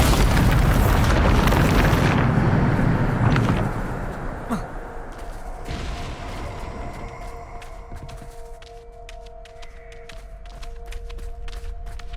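A Bombarda spell explosion in Hogwarts Legacy, a loud booming blast in the opening seconds, then a decaying rumble with ringing tonal tails and scattered small crackles.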